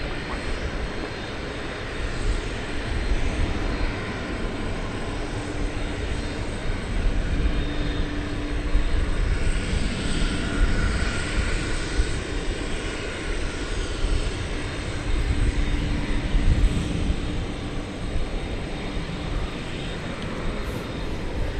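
An airplane taking off at night at DFW Airport, a broad steady engine roar and rumble heard from a distance, building slightly and sustained throughout.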